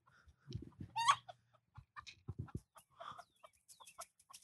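A chicken clucks in short, scattered bursts while running about, one louder squawk standing out among quieter clucks, fairly faint and uneven with quiet gaps between calls.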